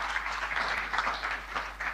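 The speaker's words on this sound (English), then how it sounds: "Let's give him a round of applause, ladies and gentlemen." A crowd claps at the official opening of an annual general meeting, a steady, even wash of applause that sounds fairly distant and continues without a break.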